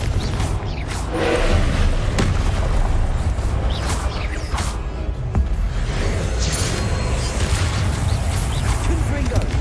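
Fire spells blast repeatedly in Hogwarts Legacy combat, a dense run of booming bursts and crackling impacts over a constant rumble, with a voice shouting spell names during the barrage.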